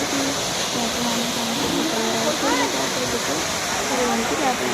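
The Gundicha waterfall rushes with a constant broadband roar, while a voice talks over the steady flow throughout.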